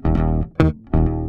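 Electric bass guitar, with a sliding note between sustained, heavily processed tones; three loud phrases separated by brief gaps and no voices.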